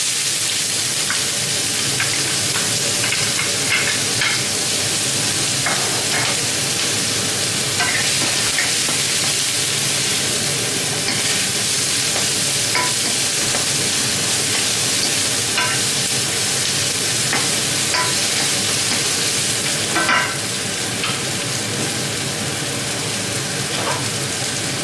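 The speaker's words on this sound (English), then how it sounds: "So I'm gonna add like our onions." Onions frying for Nigerian fried rice, a continuous loud sizzle with occasional stirring clicks and scrapes, close up and without speech throughout.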